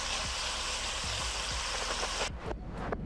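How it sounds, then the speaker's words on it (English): Beef sizzling steadily in a hot pan while being browned on all sides for Mexican barbacoa, a dense hiss with a few soft knocks, cut off abruptly near the end. "And I'm browning all sides."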